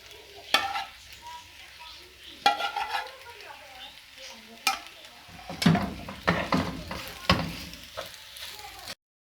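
White sauce is being stirred into chicken vegetable spaghetti in a pan. A soft sizzle runs underneath, broken by repeated scraping and clinking strokes of a utensil against the pan. There is no talking.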